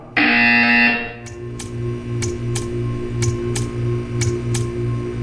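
A loud electronic buzzer sounds in the video game Portal 2 during a test chamber scene about staring at art. The harsh tone lasts about a second, then a steady hum continues under a series of sharp ticks.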